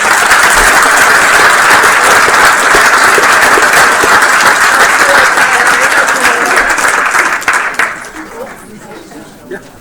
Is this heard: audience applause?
yes